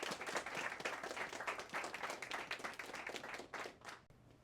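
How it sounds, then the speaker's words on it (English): A crowd at a Veterans Day celebration at Everett Community College claps steadily for several seconds, dense and fairly distant, then thins out and fades toward the end. "Now, round of applause."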